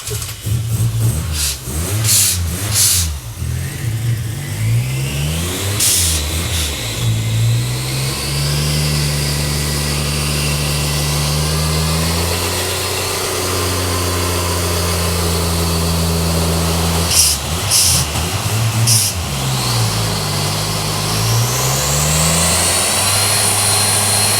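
Turbocharged Toyota Camry V6 revving under power during a dyno-style pull, engine pitch sweeping up and down repeatedly then holding a long steady climb, loud and close with no talk.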